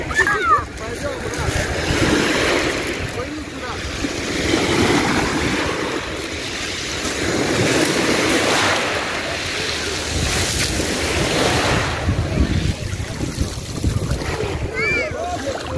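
Sea waves washing onto the shore at Koktebel in Crimea, a constant rushing surf with heavy wind buffeting the microphone and occasional surges of breaking water, with a person's voice faintly present.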